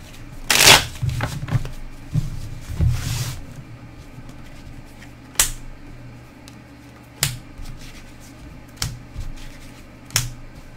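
Tarot cards being shuffled by hand nearby, a dense riffling burst near the start and another around three seconds, then sharp isolated card snaps and taps at intervals against a quiet room.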